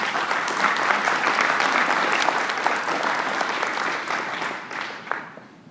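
An audience applauds to welcome Tony Porter, co-founder of Carlton, with dense, steady clapping that holds strong for several seconds before thinning and fading out.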